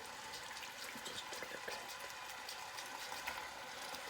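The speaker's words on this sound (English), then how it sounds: "I can hear that it's starting to sizzle." Faint, continuous sizzling of chicken in a pan, a soft crackling hiss with scattered small pops, no voices.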